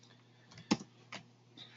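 A few isolated keystrokes on a computer keyboard while entering a task name in Microsoft Project, soft clicks with one sharper tap, heard close in a quiet room.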